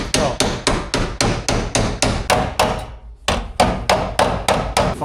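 A hammer strikes an E30 car roof panel with no dolly behind it, a loud, close run of evenly spaced metallic blows, about a dozen before a brief pause and then several more in the same steady rhythm.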